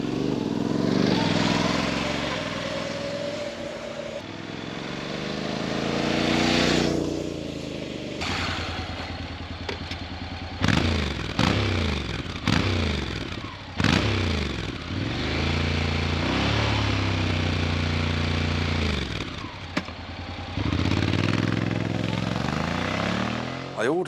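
Honda NC750X motorcycle on its stock exhaust passes by several times, engine note rising and falling as it approaches, accelerates and fades, with gear changes and a steady revving drone throughout.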